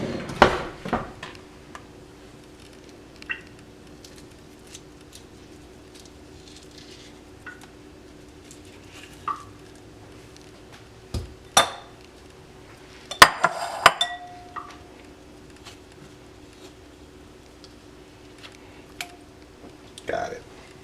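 Spoon and dishes clinking as they are handled in a kitchen while cooking, a few scattered sharp clinks and knocks, with one brief ringing clatter, over quiet room tone.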